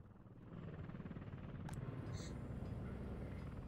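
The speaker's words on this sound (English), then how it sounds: "We got a second chopper now uh, coming" A helicopter in the video game Workers & Resources: Soviet Republic, its rotor chop a steady low pulsing drone that swells slightly louder partway through, heard alone at moderate level.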